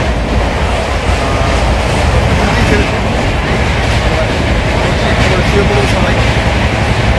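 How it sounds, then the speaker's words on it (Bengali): A passenger train rolls along after leaving the station, its loud continuous rumble and rattling wheel clatter filling the space from inside the carriage, with voices of people talking underneath. "আমাদের ট্রেন ছেড়ে দিয়েছি"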